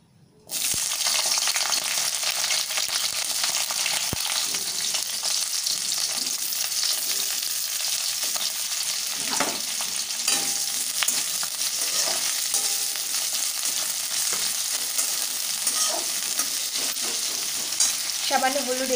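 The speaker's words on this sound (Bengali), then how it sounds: "তেলটা আমার গরম হয়ে গেছে, আমি এবার এর মধ্যে দিয়ে দেব আলু আর ফুলকপিগুলো।" Potatoes and cauliflower dropped into hot mustard oil in a kadai, a loud dense sizzle that bursts in after a quiet start and holds steady with occasional stirring scrapes.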